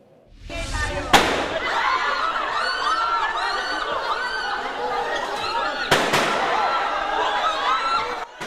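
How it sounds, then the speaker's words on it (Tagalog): A rapid string of gunshots echoes on the second floor of the Philippine Senate building, several distinct cracks standing out amid dense crackling and a murmur of people. "Umalingaw-ngaw ang sunod-sunod na putok ng baril sa second floor ng gusali ng Senado"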